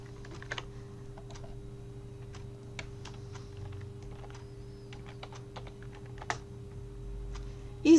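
Keys clatter in quick irregular bursts on a computer keyboard while someone enters data in an Excel spreadsheet, the clicks close and crisp over a low steady hum, with a sharper clack at the very end.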